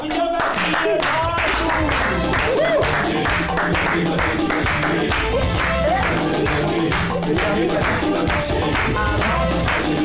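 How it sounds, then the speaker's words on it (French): A studio audience on a French-language evening TV show gives loud, sustained applause and ovation, dense clapping filling the whole stretch with crowd noise and some voices underneath. "Maximum d'ovation, s'il vous plaît"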